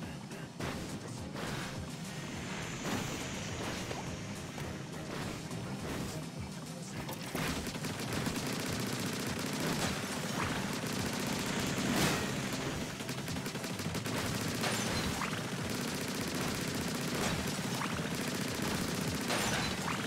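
Continuous Splatoon 3 gameplay shooting: a steady wash of rapid, overlapping ink-weapon fire with sharp bursts scattered through, busy and dense throughout, with occasional brief talk underneath.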